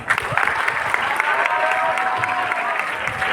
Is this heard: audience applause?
yes